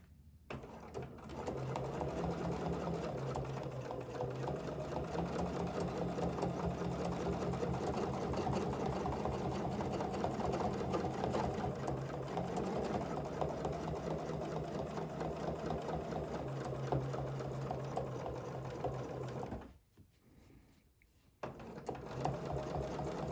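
A domestic sewing machine fitted with a ruler foot stitches in a fast, steady whir for long stretches, stopping briefly near the end before starting up again, close and clear with no talking.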